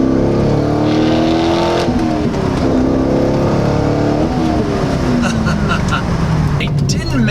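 A C5 Corvette making 350 horsepower accelerates hard, its loud engine note sweeping up in pitch, dropping at gear changes, then climbing again.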